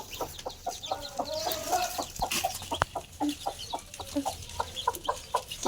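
A chicken clucks in a series of short, rhythmic calls, close and clear over a quiet farmyard background, with no talking.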